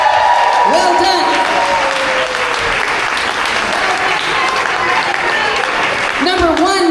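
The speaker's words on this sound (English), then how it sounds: "Give her a better round of applause than that, everybody." Audience applause for the winning bidder at a teen clinic charity auction, loud, close and sustained for several seconds, with voices calling out over the clapping near the start and end.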